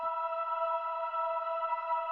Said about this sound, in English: the first thing that we've got going on here are these two string drones